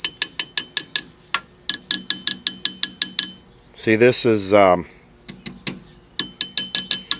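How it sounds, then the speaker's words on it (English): The telephone bell mute resonator inside a 1976 RCA XL100 CTC74 colour portable television rings in rapid, bright metallic strikes. Bursts come in quick runs, pause while someone speaks briefly, then resume. "tuned to the same frequency as a telephone bell. So when the telephone in the house rings, this oscillates at the same frequency and mutes the TV."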